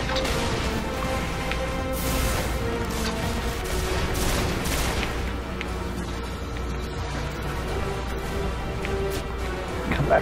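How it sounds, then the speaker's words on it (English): Enemy gunfire in the Destiny video game, dense overlapping shots and booms rolling through a loud, continuous wash of battle noise from start to finish. "Things shooting at me."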